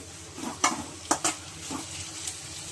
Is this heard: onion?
yes